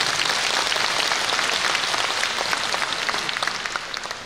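Brief, fairly thin applause from an audience at a Catholic charismatic renewal retreat lecture, a steady wash of clapping that slowly fades.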